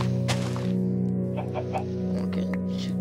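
A chicken in Minecraft clucks in several short, close calls over a steady droning game-music background, with a sharp knock near the start.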